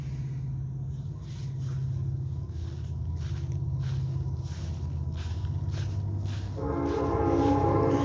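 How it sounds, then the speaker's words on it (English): A train passes on nearby railroad tracks in a residential area, a continuous low rumble that swells and grows louder toward the end. "It's a train. I live by the railroad tracks."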